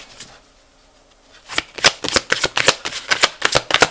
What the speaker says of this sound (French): on a des cartes qui sortent